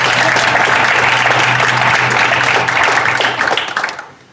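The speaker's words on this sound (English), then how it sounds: "Now you can clap." Audience at a school board of education meeting bursts into dense, loud applause that holds steady, then tapers off and fades out at the end.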